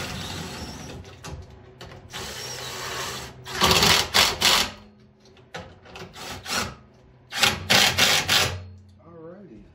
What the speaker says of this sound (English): Okay, and we'll go ahead and tighten them down.